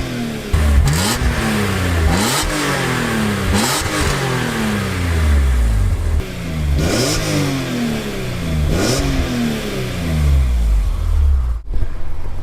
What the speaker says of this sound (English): I love the sound of E46 M3s